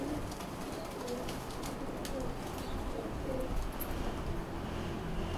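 Mamole Dabaz pigeons coo softly in a Lahore loft, low murmuring calls half buried under steady background noise and faint rustling, without speech.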